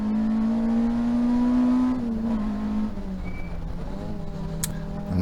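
A race car at Snetterton during a TARC Tricolore race, heard from the cockpit under hard braking and a downshift into second gear. The engine drones loud and close throughout, and its pitch drops and roughens partway through as the car slows into the corner.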